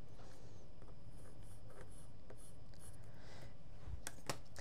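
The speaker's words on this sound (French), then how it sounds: "Je vais venir dessiner ma marge de couture en bas." A seam allowance line is drawn along the bottom edge of fabric for a Topaze cardigan, a soft, faint scratching of strokes over a low room hum, ending with a couple of sharper taps.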